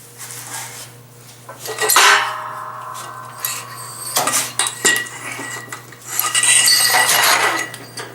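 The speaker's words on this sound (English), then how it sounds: "So now I can separate the backing plate from the axle." Metal clanks and clinks as a steel backing plate is worked free of a Nissan D21 Hardbody rear axle, with bursts of scraping and clattering around a few louder knocks, close up over a steady low hum, no talking.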